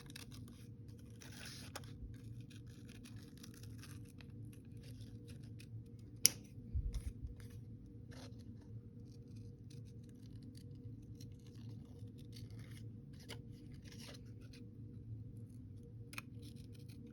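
Scissors cut out paper shapes for a collage in a long, quiet close-up of soft snipping and slicing paper with occasional rustles and one sharp tap, steady over a low background hum, no talk.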